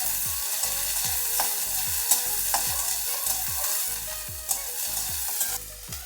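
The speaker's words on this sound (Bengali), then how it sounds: "পেঁয়াজটা এদিকে ভাজা হোক" Onions and green chillies fry in hot oil with a dense, steady sizzle, broken by regular stirring scrapes against the pan throughout.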